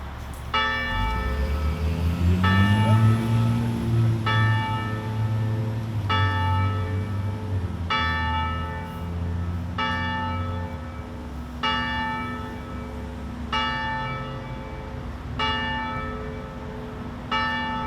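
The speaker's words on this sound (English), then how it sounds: "I'd like to signal for the bells to be ringing in the back." Church bells ring outdoors at a Veterans Day observance in Lakeville, slow evenly spaced strikes roughly every two seconds with long ringing overtones, over a low rumbling swell of background noise and no talk.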